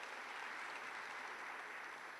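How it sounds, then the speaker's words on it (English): Audience applause at the Commonwealth Youth Forum opening ceremony in Kigali, a steady, even wash of many hands clapping that fills the space without pause, heard fairly distantly and alone. "A big round of applause for Kendall."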